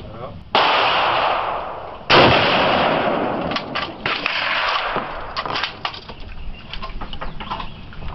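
At an outdoor shooting range, two sharp gunshots crack out close by, each followed by a long echoing decay, with people talking quietly between them.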